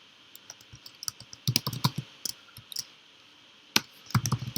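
Keys on a computer keyboard clack in irregular bursts of typing, close and crisp, with short pauses between runs of keystrokes.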